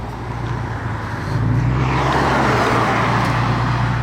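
A small Maserati car driving behind on the road, its steady engine hum and tyre rumble growing a little louder partway through, heard close and without talk.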